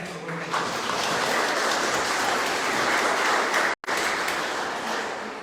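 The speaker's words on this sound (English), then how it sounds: "So please give him a big clap for the work." Audience clapping at a parliamentary gathering for Motor Neurone Disease NZ, a dense steady wash of applause filling the room, with one abrupt momentary break near the end.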